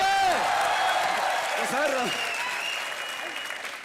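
Loud, steady applause from a comedy show studio audience for the heroine's team, filling the whole moment and slowly easing off, while a host speaks over it.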